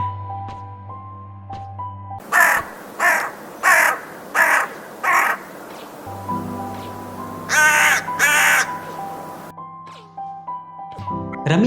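Crows caw as a cartoon story sound effect, a run of five loud harsh calls in steady rhythm followed by two more raspy caws, all set over a sustained musical score.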